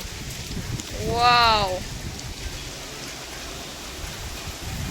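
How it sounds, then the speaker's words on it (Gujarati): Heavy rain pours steadily in a dense, loud hiss, with a person's short exclamation rising over it. "હવે પહેલા કરતાં બહુ જ વધી ગયો છે વરસાદ"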